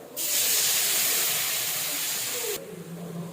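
Tomato poured into a hot pan for rasam, a loud close hissing sizzle that bursts in and holds steady for over two seconds, then drops to a softer simmering crackle.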